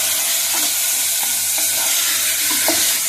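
Mutton sizzling in hot oil in a pan on low flame, a steady close frying hiss with occasional soft scrapes as the meat is stirred.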